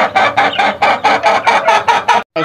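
A hen with her chicks clucks in a quick, regular series of about nine loud, close calls, each a short rounded burst, ending with a brief pause and one more cluck.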